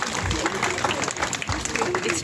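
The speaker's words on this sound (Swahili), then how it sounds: "wapigeni makofi wanapokuja" Wedding crowd clapping for arriving guests, a dense, steady patter of many hands that carries on throughout with a voice talking over it.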